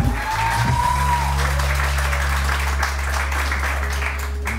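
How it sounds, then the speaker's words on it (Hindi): Steady studio audience applause on a morning television show, a continuous wash of clapping over a low, droning musical bed. "तो अब आप तालियां बजाना शुरू कीजिए"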